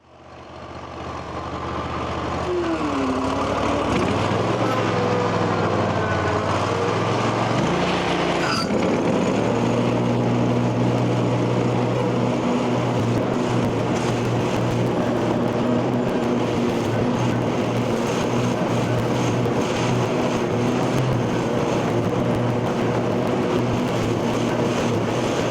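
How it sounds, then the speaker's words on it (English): A lawn mower engine starts up and then runs at a steady, loud drone on a hot-weather homestead, with no talking. "I'm gonna run the mower real quick"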